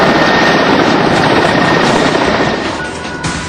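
A rescue helicopter flying with NDRF teams over a flooded highway in Rajasthan: loud, continuous rotor roar close overhead, easing slightly toward the end.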